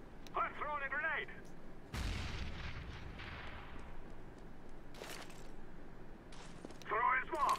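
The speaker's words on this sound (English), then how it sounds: "I'm throwing a grenade." A grenade thrown in a video game, ending in a loud booming explosion that bursts across the band at about two seconds and rumbles away, with a later burst of game gunfire and chirpy effect sounds on either side.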